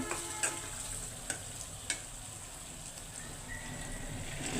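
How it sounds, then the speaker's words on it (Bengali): Lentils frying with spices in a pan, a soft steady sizzle broken by a few sharp scrapes and taps of a stirring spoon, fairly quiet and without speech. "ডালগুলো এখন আমি ভালো করে ভেজে নিব মশলার সাথে"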